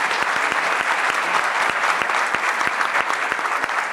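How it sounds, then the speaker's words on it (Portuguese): Audience at the opening of an international seminar applauds in a dense, steady wash of hand claps with a few sharper nearby claps standing out, loud and continuous throughout. "Queria uma salva de palmas para a gente saudar a Frente Povo Sem Medo."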